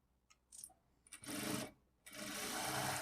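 A sewing machine stitches a blouse in two short runs of close, whirring mechanical sewing, separated by a brief pause and preceded by small clicks.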